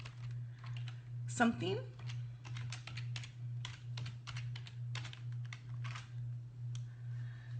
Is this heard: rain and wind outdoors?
no